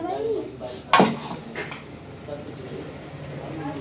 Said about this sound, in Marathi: आता कढई ठेवलेली आहे.